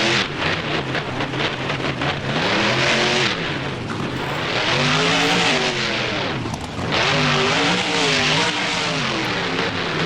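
A monster truck engine revs hard in BeamNG during a freestyle run at Soldier Field, loud and continuous, its pitch rising and falling in repeated sweeps as the throttle surges and eases, with no voices.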